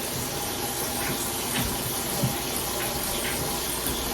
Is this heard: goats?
no